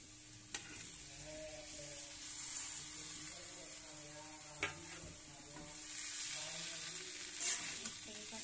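Pieces of taro (arbi) fry in a pan with spices, giving a steady close sizzle with occasional louder crackles and scraping stirs; a faint voice can be heard at times.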